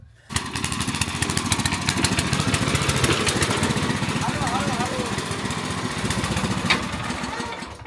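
A small Eicher mini tractor engine chugs steadily and loudly nearby, running throughout with voices faintly underneath.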